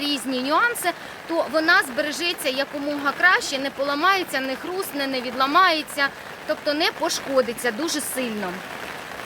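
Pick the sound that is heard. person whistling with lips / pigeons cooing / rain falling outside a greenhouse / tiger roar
rain falling outside a greenhouse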